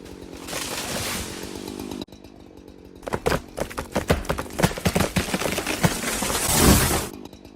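Chainsaw cutting beetle-killed pine trees into firewood, a steady saw drone at first, then a run of choppy, uneven bursts as the engine revs and the chain bites through the wood, close and loud throughout.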